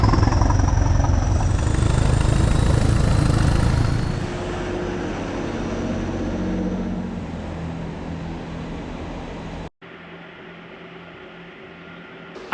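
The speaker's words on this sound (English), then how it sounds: "listen to how the engines have that distinctive English electric whine" Train power cars with English Electric engines give a steady droning whine and rumble, loud at first then easing as they pull away, with a brief cut near the end; no voices.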